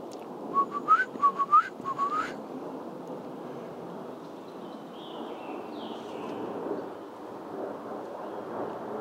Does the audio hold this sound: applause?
no